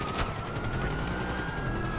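Rapid gunfire in the GTA 5 video game, a dense continuous burst of shots rolling on without pause for two seconds, loud and close with a steady engine-like hum underneath.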